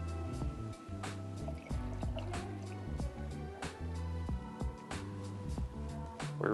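Coffee dripping through a pour-over filter, a sparse series of separate drips landing at irregular intervals over a soft, steady background, close and fairly quiet.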